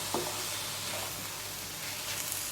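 Pork liver with ginger stir-frying in a hot pan for a Thai dish: a continuous bright sizzle with a few soft scraping stirs near the start and middle, steady and close, no voices.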